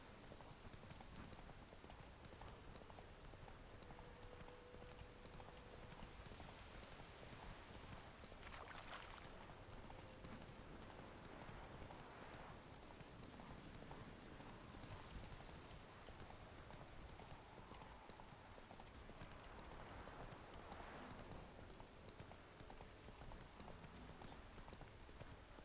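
Roach the horse from The Witcher 3 gallops with rapid, rhythmic clip-clop hoofbeats, faint and continuous beneath steady rain.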